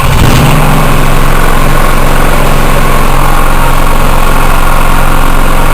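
A generator engine idles low and steady, a loud, continuous drone with an even rumble that holds unchanged throughout, with no voices.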